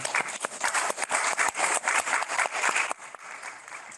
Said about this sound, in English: So a little round of applause for our.